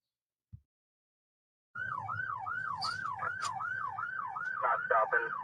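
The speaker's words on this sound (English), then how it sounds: "then there will be an audible siren" A brief thump, then a loud police car siren starts up and cycles rapidly up and down, with a few sharper tones layered in toward the end.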